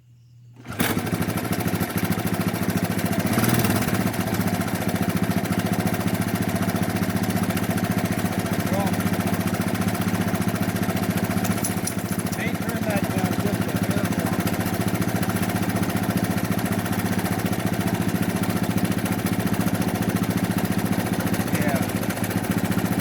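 A 1983 Honda ATC 200 engine idles steadily during a carburetor idle screw adjustment, producing a continuous, even, rattling drone that starts abruptly and holds at a constant level throughout.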